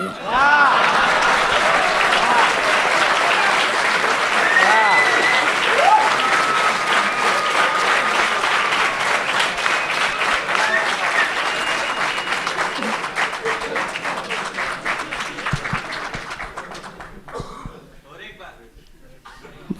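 Sustained audience applause following a ghazal recitation at a Suresh Bhat ghazal gathering, loud and dense at first, then thinning and fading toward the end, with some voices mixed in.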